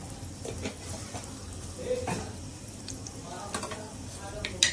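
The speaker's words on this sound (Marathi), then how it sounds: "जिरं तडतडू दे जिरं तडतडले" Quiet crackling and popping of cumin seeds in hot oil, with scattered small sputters and the scrape of stirring, fairly faint and close.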